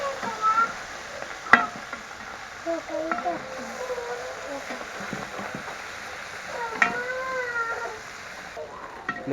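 Green chilli masala fish curry is stirred in a pan in a Telangana village kitchen, giving soft scraping and faint sizzling with a few sharp clicks, quiet and close, with a voice talking at times.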